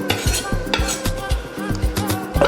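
Onion going into a pot of steamed meat for soup and being stirred, with a quick, uneven run of loud metallic scrapes and clinks from a spoon against the pot.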